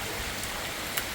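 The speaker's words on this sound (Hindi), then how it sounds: "अभी बारिश आ रही है" Steady rain pours down outdoors with a dense, continuous hiss of drops striking surfaces, loud and unbroken for the whole moment with no voices.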